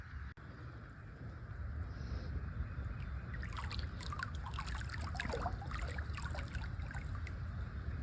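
A Wybot C1 robotic pool cleaner dives and then forces out a burst of air and water, heard as churning, bubbling splashes that rise midway and keep gurgling over a low rumble of pool water.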